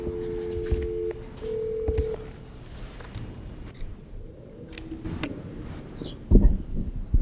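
Telephone keypad tones sound during a county board of supervisors meeting as a caller is connected, a few steady beeps early on followed by soft clicks and handling noises, with no talking.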